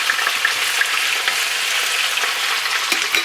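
Vegetables sizzle loudly in a hot skillet while the pan is shaken, a dense, continuous close-up frying hiss with small crackles throughout and no voices.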